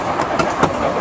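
Steady rolling rumble and clatter of a train running on rails, heard from aboard at the back of a passenger train passing through mountain country, loud and continuous with a few rhythmic wheel clicks and no talk.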